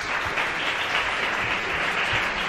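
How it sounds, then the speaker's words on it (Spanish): Children applauding at a school event, a steady patter of many small hands clapping together, fairly close and sustained for a couple of seconds. "Aquí hay mucho ciclista que ha aplaudido ilusionado"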